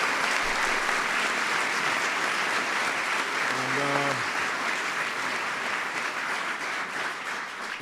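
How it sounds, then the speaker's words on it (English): Applause from an audience at a White House ceremony honoring the 2015 World Series champion Kansas City Royals: sustained, even clapping from a crowd, with a brief voice or cheer heard partway through before it slowly tapers. "They deserve a big round of applause for that."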